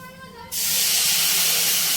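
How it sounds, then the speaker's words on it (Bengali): Water poured little by little onto hot semolina in a pan bursts into a loud, sustained steamy hiss that starts abruptly and continues while the mixture is stirred, with no voices. "অল্প অল্প করে জল দেবো আর নাড়তে থাকবো।"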